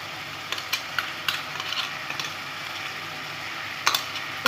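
Cumin and dried plus green chillies frying in a pan of spice paste for Bengali chicken kasha, a steady soft sizzle with occasional scraping stirs and clinks of a spatula, no talking.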